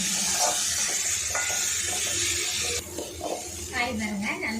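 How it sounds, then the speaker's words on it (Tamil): Chopped bottle gourd stirred and sautéed in a pan for a Tamil-style poriyal, a moderate sizzle with a spoon scraping now and then, partly alongside speech. "இதோட நல்லா மிக்ஸ் பண்ணிட்டு வதக்கிக்கலாம்."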